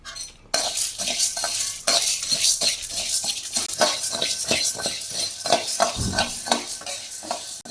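A metal ladle stirs and scrapes peppercorns and about four dried red chillies dry-roasting in a pan, in repeated close, rhythmic rattling strokes with a faint crackle, and no talking.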